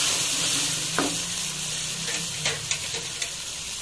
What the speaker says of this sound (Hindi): सारी चीज़ों को अच्छी तरह मिक्स करेंगे